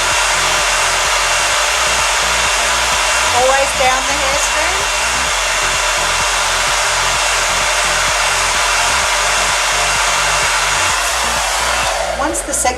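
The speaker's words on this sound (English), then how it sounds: "You pick the blow dryer up, you're going to heat it up till it's hot." A hair dryer blows on hair steadily and loudly from start to finish, a constant whooshing roar with a faint pulsing rattle underneath.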